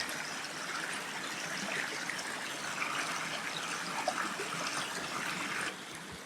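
Cedar Creek runs along the Manistee River Trail, its water flowing and trickling in a steady, close broadband rush that holds evenly throughout, with no voices.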